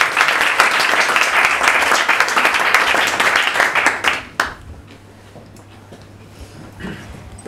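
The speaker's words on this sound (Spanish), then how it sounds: "Un fuerte aplauso para ella." An audience applauds a storyteller at a storytelling event, steady dense clapping for about four seconds that cuts off sharply, leaving quiet room tone with a faint voice near the end.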